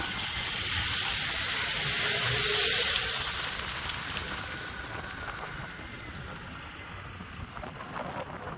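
Drain water surging and overflowing after heavy rain, a steady broadband rush that swells in the first few seconds and then eases slightly, continuous and fairly close, with no voices.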